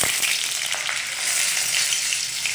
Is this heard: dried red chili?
yes